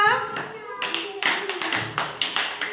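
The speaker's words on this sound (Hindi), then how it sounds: "ताली मार दियो" Hands clapping at an Anganwadi children's session in Odisha: a voice at the start, then a string of sharp, close claps in a loose, repeating rhythm.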